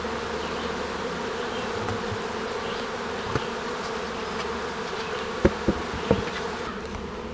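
Dense, steady buzzing of honeybees swarming around an open hive, heard up close and unbroken, with a few faint knocks of hive parts being handled.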